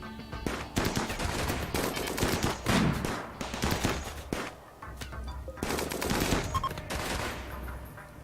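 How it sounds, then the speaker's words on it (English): Gunshots in the Rimworld colony game, including pistol fire, come as dense, loud bursts with short gaps across the stretch, some shots overlapping into rattling volleys. "a guy walks around the corner with a pistol and hits Oliver"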